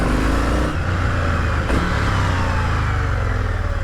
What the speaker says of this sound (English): Cheeky little bit more note from the exhaust from the Aki.